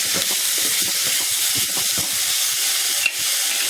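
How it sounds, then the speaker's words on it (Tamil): Chopped onions sautéing in a pan for a sagu gravy, giving a steady close sizzle and frying hiss with faint stirring scrapes and one brief sharp clink near the end, no voices. "இதையும் நல்லா வதக்கிக்கலாம்"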